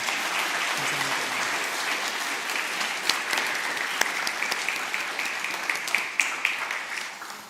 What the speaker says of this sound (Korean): 한번 축복의 박수 해주시기 바랍니다